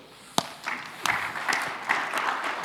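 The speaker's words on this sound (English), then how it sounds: "So you can all clap" Conference audience at a technical talk on Kubernetes and BOSH claps after a sharp opening clap, building into a thin, scattered round of applause from a modest crowd at moderate distance.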